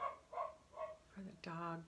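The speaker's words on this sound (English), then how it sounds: "dog barking in the background." A dog barks a few times in the background behind a soft-spoken meditation voice, the short yips fairly distant and partly masked by talk.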